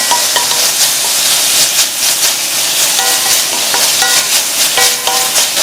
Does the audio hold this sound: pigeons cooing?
no